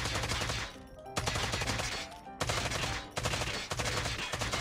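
Rapid automatic gunfire from a Call of Duty match, loud and dense with sustained bursts broken by short pauses around every second, close-up and continuous.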